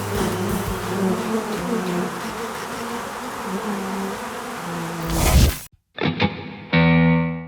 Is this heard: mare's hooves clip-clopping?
no